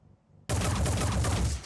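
A sustained burst of rapid gunfire in the tactical game Phoenix Point erupts suddenly after a quiet moment and continues as a loud, dense volley without letup.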